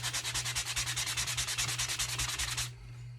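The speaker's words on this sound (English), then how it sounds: "And I'm going to end up sanding most of the paint off" Rapid rhythmic rasping strokes of a sanding block against painted wooden boards, about ten per second, close and steady, then stopping abruptly near the end.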